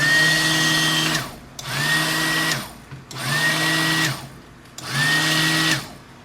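A Soap Equipment Light Commercial Power Wand mixing soap with titanium dioxide, whining in four even bursts of about a second each, the motor pitch rising at each start and dropping off between runs, close and loud.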